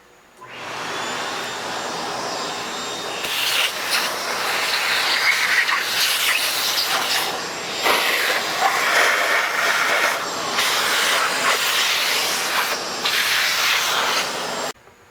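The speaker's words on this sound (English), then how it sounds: "take our wet vac and clean up the dust" A wet vac runs continuously for about fifteen seconds, cleaning up sanding dust from the saddle of a 14.5 South Bend metal lathe during repair, with a steady loud rushing hiss and shifting pitch as the nozzle moves.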